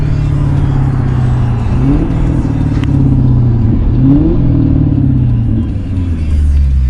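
A sports car engine revs and rumbles loudly among buildings, with two rising surges echoing back over a steady low drone.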